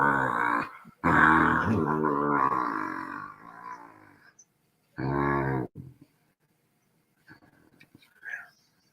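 A pet dog growls low and whimpers close by indoors, in short rumbling bursts broken by pauses, with soft whispered talk from people nearby.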